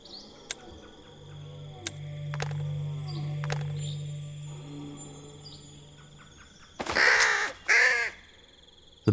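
A crow caws twice, loud and close, in a mystery detective adventure video game, breaking through a quiet ambient backdrop of soft low music and scattered faint clicks and chimes.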